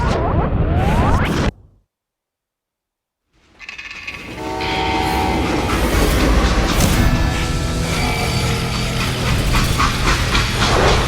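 A freight train rolls along in a Western shooter game, first a brief rumble that cuts to silence, then a loud, sustained mechanical roar with rattling wheels and metallic squeals and tones carrying on alone.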